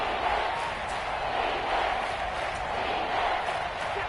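A stadium crowd in a football video game roars steadily through a big third-down moment, a dense, sustained wash of cheering at moderate volume with no break.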